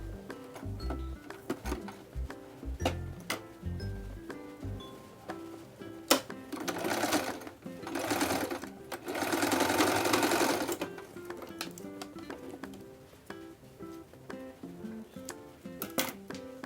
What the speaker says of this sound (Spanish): Entonces pasamos costura.